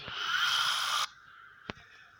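A man snores loudly: one harsh, rasping snore about a second long, close by, then it breaks off into near quiet with a brief click.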